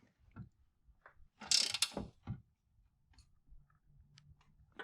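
A ratchet tightens the lower control arm ball joint nut into the spindle taper on a BMW E46: a dense burst of quick metallic clicks, then a few short isolated ticks against a quiet garage background.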